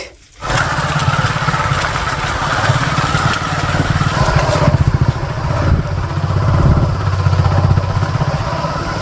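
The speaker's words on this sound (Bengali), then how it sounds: "বাইকে করে বীরভূমের জঙ্গলে ঘুরছি গাইস" Motorcycle engine running steadily and close as the bike rides through a forest in Birbhum, a continuous throbbing drone with slight rises in revving.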